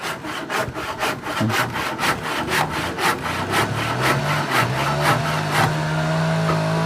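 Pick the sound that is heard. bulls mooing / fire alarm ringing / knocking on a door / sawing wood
sawing wood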